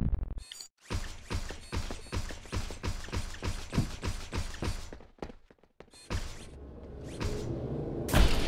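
Weapon reloading in the Project Eden video game: a rapid run of about a dozen evenly spaced metallic ratcheting clicks, loud and close, then a brief pause and a softer mechanical rattle and clatter at the end.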